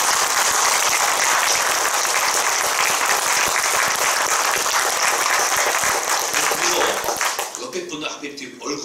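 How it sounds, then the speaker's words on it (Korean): Church congregation at a thirtieth-anniversary thanksgiving service breaks into loud, sustained applause, thick clapping filling the room before tapering off near the end, with voices mixed in. "여러분 우리 하나님께 큰 영광의 박수 올려드리도록 하겠습니다"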